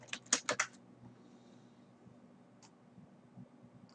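A quick burst of typing on a computer keyboard, several close clicky keystrokes in a rapid cluster, then a couple of isolated taps over a quiet low hum.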